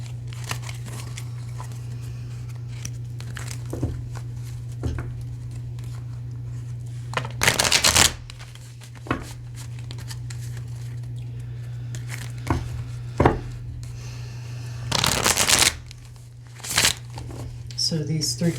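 A tarot reader's deck of Angels and Demons cards is shuffled in a few short riffling bursts, close and crisp, between stretches of talking over a steady low hum.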